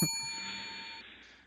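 A single bell ding rings out clearly, with a bright metallic strike that fades slowly over about a second and a half.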